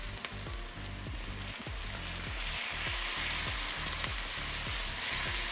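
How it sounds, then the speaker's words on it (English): Onion and crushed garlic frying in hot oil for a spicy Guyanese butter fish curry, a dense crackling sizzle that swells louder partway through, with a faint repeating rhythmic rumble underneath. "I'll let the onion fry in the hot oil."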